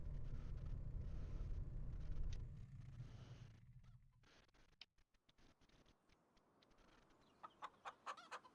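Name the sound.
chickens clucking in a video game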